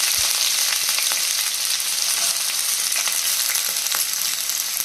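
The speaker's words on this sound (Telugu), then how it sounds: "ఇది కొంచెం వేగిస్తాను" Chana dal and dried red chilies fry in hot oil, giving a steady, close sizzle with faint crackles and occasional stirring throughout.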